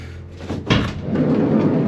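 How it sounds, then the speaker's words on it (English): A van door is opened inside an empty van being converted into an off-grid home, giving a single clear clunk followed by a sliding rumble that settles into quiet interior room noise, close by and with no talk. "If I open up this door, actually, there might be more light."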